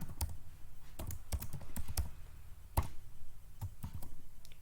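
Typing on a computer keyboard while writing a Visual Basic 6.0 program, with a series of close clicking keystrokes in irregular bursts, some heavier key presses standing out, no talking.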